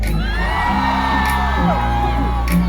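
A crowd screaming and whooping at a live dancehall concert birthday bash in 2019, a dense, sustained roar of cheering voices under a loud, continuous mix with music and an MC shouting over it.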